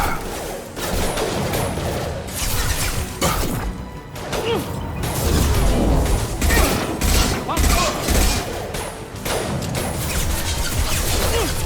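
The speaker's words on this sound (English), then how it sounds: "Taking fire." Sustained gunfire and combat in the video game Mass Effect 2, loud dense bursts of shots with impacts and crashes throughout, with brief voice lines mixed in.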